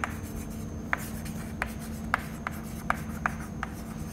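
Chalk or marker taps and strokes on a board during a fluid mechanics lecture on mass transfer, a handful of short, sharp, evenly spaced ticks over a quiet room hum.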